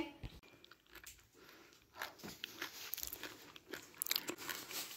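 Someone eats doi fuchka, a crunchy street snack of crisp puri shells with yogurt, producing close, soft crunches and wet chewing in an irregular rhythm, quiet and without talk.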